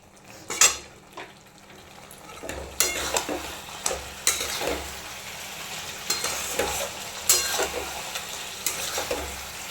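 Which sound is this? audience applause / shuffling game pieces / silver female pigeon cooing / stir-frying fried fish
stir-frying fried fish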